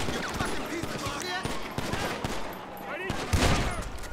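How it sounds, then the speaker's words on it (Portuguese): Police gunfire in the GTA 5 video game: dense, continuous bursts of shots and automatic fire run through the whole stretch, with a louder burst near the end and a voice speaking in the background. "Já tô tomando tiro, eu entrei sem querer ali."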